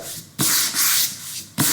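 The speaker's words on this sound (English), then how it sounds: "take a smooth sanding disc. This is a sanding block" A sanding block rubs over a painted wooden sign in two long, close strokes, a dry rasping scrape with short pauses between passes.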